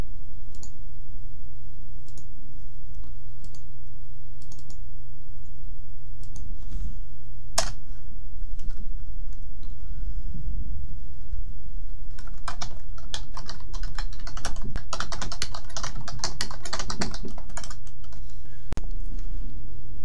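Fast, steady typing of code on a computer keyboard, close and loud, with dense bursts of key clicks that grow busier in the second half over a constant low hum, and no voices.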